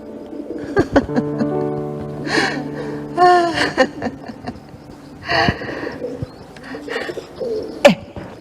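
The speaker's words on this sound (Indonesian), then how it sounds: "dari mana saja datangnya merpati-merpati ini ya?" Pigeons coo repeatedly in an outdoor setting, soft throaty rolling calls overlapping with flutters and small sharp bird sounds, fairly close and steady throughout, with no talking.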